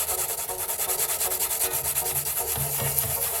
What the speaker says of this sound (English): I used P600 sandpaper, a relatively coarse grit, and sanded firmly and evenly across the coated surface